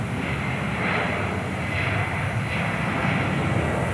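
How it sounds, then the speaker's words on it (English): An aircraft passing at Perth airport makes a steady, broad engine roar with a deep rumble, continuous and moderately loud throughout, without clear rise or fall. "Lovely aircraft."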